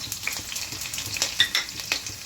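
Cumin seeds and green chillies hit hot oil and sizzle loudly and steadily up close, with light stirring scrapes and a faint metallic clink partway through.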